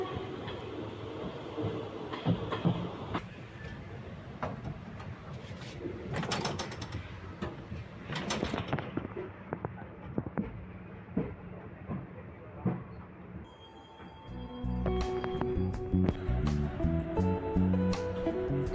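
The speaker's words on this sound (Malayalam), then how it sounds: "ട്രെയിനിന്റെ എഞ്ചിൻ മാറ്റിയിടുന്നു" Rail yard clanks, hisses and mechanical knocks as a train engine is changed and shunts on the Angamaly–Nilambur line, with a heavy engine rumble building toward the end.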